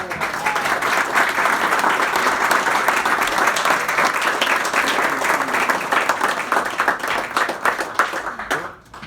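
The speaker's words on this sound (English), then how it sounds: "let's give Clyde another round of applause" A service club audience gives a speaker a round of applause: loud, dense clapping holds steady for several seconds, then thins out and tapers off.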